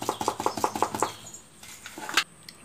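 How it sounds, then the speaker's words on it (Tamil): Cake batter beaten with a hand whisk in a bowl: about a second of quick, even, soft tapping strokes close by, then a fainter pause and one sharper knock. "நான் இந்த மாதிரி விஸ்க் யூஸ் பண்ணுறேன்"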